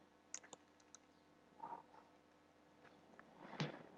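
Scattered clicks of typing on a computer keyboard: a few quick keystrokes early on, then isolated taps, close and fairly faint against a quiet room hum.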